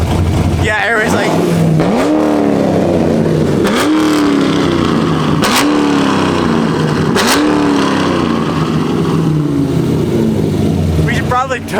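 Straight-piped Chevrolet Corvette Z06 with its exhaust piping removed, revving hard in repeated loud blips that rise and fall about every two seconds, very close and raw, with people talking over it.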